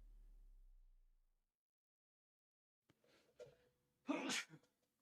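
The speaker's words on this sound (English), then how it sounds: "There was the sneeze." A single sharp sneeze bursts out near the end, preceded by a short inhale and soft breathy sounds, close and fairly loud against an otherwise quiet background.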